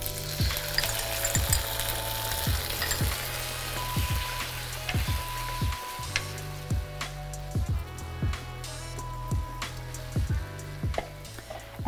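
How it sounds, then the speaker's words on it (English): Sticky sauce for crispy chilli beef sizzling and bubbling in a hot pan, a steady crackling fry with soft repeated pops and stirring thumps throughout, close and fairly loud. "we're going to add in our sauce. We're just going to bubble up and get nice and sticky"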